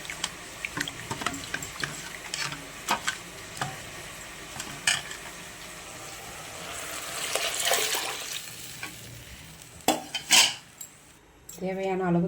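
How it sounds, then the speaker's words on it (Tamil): Tamarind water mixed with chili powder is poured into a pan of sardine curry on a home stove, with clinks of a utensil against the pan and brief liquid splashes, mostly close and moderately quiet. "புளி கரைசல், புளியும் மிளகாப்பொடியும் ஊற்றிடலாம்."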